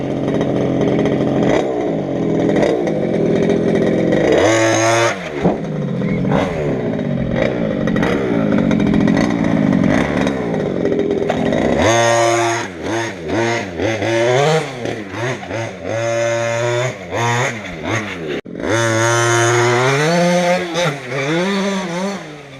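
A Redcat Rampage MT gas-powered RC truck with a belt-drive setup runs loud and close, its small two-stroke engine buzzing, revving up and down in repeated rising and falling sweeps with brief drops to idle.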